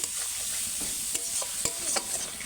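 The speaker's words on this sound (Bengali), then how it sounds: "ওইটা একটু তেলেতে ভালো করে ভেজে নেবো" Drumstick vegetable (sajna data) being stirred and fried in oil in a pan for a potato curry, a steady close sizzle with repeated scraping stir strokes and clicks of the spoon, no talking.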